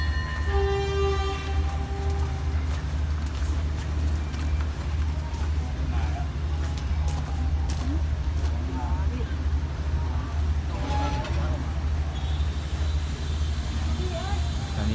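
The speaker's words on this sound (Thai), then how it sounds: "กำลังเคลื่อนตัวออกจากสถานีรถไฟบ้านโป่งนะครับ" Rapid Train 172 rumbles steadily as it pulls away from Ban Pong railway station in Thailand, with a horn sounding briefly at the start and clattering wheels throughout.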